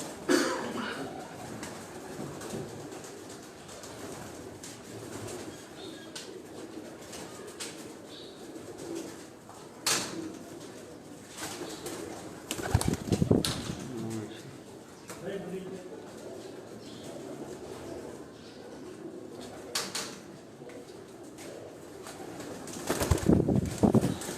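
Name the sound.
pigeons on a rooftop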